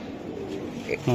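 Kalfit pigeons, Giribaz high-flyers, coo softly close by, their low murmuring calls rising toward the end beneath someone talking.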